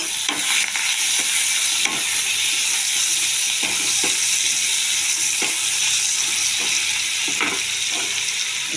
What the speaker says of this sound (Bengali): আমি তেলে একটু জিরে ফোড়ন দিয়ে হলুদ আর নুন দিচ্ছি, দিয়ে আমি চিংড়ি মাছটা ভেজে নেব